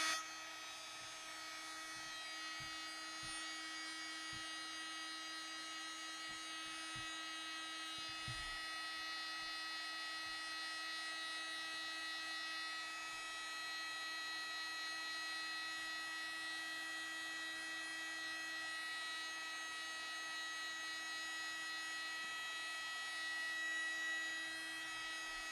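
A heat tool blows steadily for a long stretch, drying ink on a stamped craft postcard, a constant close whine and hum with a few soft low bumps as it is moved about.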